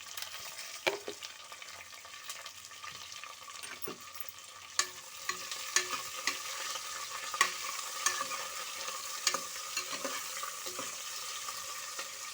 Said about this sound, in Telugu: ఇవన్నీ కొంచెం గోల్డెన్ బ్రౌన్ కలర్లోకి వచ్చే వరకు వేగనివ్వాలి.